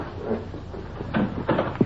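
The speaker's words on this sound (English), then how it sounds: "Open the door for this." Door opening in a 1950s radio police drama, with a wooden creak and a few knocking clunks over a steady background hiss, moderately loud and close, without speech.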